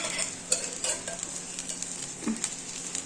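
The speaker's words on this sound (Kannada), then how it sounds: "ಬೆಂಡೆಕಾಯಿನ ಸ್ವಲ್ಪ ಎಣ್ಣೆ ಹಾಕ್ಬಿಟ್ಟು ಚೆನ್ನಾಗಿ ಹುರ್ಕೋಬೇಕು ಅವನ್ನ" Okra fries in a little oil on a gas stove for a ladies finger sambar. A steady hiss runs under quick scrapes and taps of a stirring utensil against the pan, close by, with no talking.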